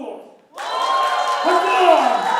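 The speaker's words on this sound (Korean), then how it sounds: "다시 한번 해볼까요? 박수!" A concert audience bursts into sustained applause and cheering after a short pause, loud and dense throughout with rising shouts layered over the clapping.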